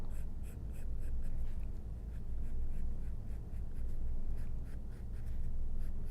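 Pencil drawing curved lines on paper to join dots freehand, a soft close scratching that comes in repeated gentle strokes with brief pauses between them.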